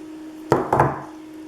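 Scissors snip through scrapbook paper in two quick, close cuts, crisp and fairly loud against a quiet room.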